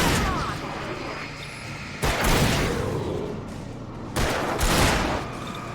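Gunshots in the video game Alan Wake, heard as loud, booming blasts at roughly two-second intervals over a dense, rumbling background.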